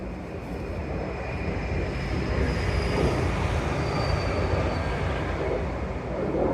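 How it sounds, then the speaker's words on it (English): A train rumbles past at steady volume, broadband roar of wheels on rails with faint high squeals, continuous throughout. "the train just went past"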